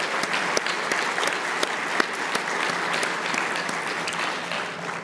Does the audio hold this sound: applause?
yes